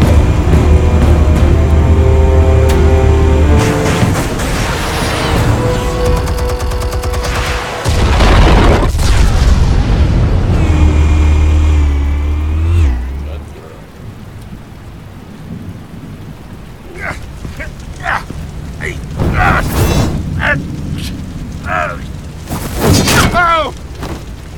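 Heavy explosive detonations in the Destiny 2 video game: deep, loud booming blasts with rumbling tails, then a quieter stretch of crackling debris and scattered sharp bursts.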